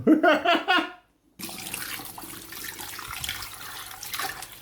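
Tap water running to soak salted fish, a steady splashing flow that starts abruptly after a brief voice and a moment of silence, continuing close and moderately loud.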